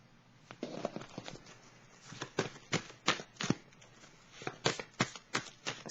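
Tarot cards being shuffled in a series of crisp riffling bursts and soft slaps, close and fairly loud, with a quiet pause before the shuffling picks up again in an irregular rhythm.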